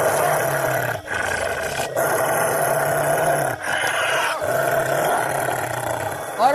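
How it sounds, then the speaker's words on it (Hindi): A wolf in a horror cartoon growls loudly, a sustained, roaring snarl in long continuous stretches broken by brief pauses, close and dominant. "तभी वह भेड़िया जोर जोर से गुर्राने लगता है और उसकी आवाज पूरे गाँव में फैल जाती है।"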